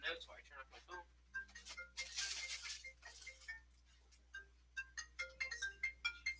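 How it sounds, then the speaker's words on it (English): A mobile phone ringtone goes off during a university lecture, a melodic electronic tune of repeated short tones that starts, pauses briefly, and plays again, mid-loud in a room with low hum. "That's my phone. How embarrassing."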